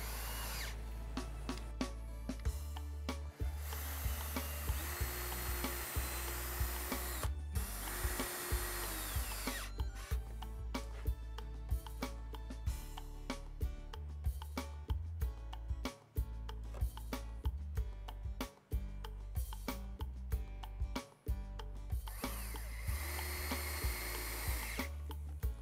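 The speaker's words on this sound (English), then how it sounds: "use clamps in the meantime to hold the shelves in place while you drill pilot holes and" A power drill works in pine while building a plant stand, with bursts of whirring broken by short pauses and clicks, some runs longer, moderately close and quiet, with no voices.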